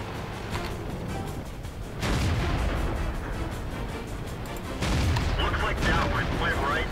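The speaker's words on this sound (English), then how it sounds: "I'm going to die from artillery right about now" Artillery shells striking a Centurion Mk 1 tank in World of Tanks: two heavy booming impacts a few seconds apart, loud and rumbling, over steady battle noise, with a player talking.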